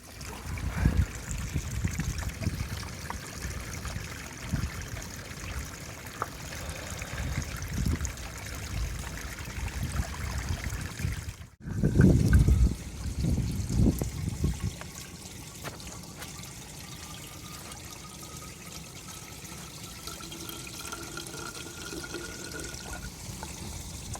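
Water is squeezed from a Smartwater bottle through a Sawyer Squeeze filter, a thin continuous trickle and dribble with a brief louder gush after a short break partway through, otherwise quiet and close.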